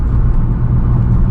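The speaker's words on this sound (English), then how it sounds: "Little third gear pull." A car pulling hard in third gear gives a steady, loud low engine rumble with a droning whir, heard close from inside the cabin with no talking.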